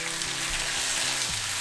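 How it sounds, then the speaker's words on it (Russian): Minced meat and tomatoes frying together in a pan, a steady continuous crackling hiss with faint low tones underneath, close and moderately loud. "Пускай все жарится вместе."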